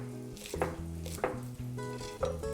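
A knife rough-chops rolled-up kale into half-inch sections on a cutting board. Three crisp, separate chops land against a low, steady kitchen hum.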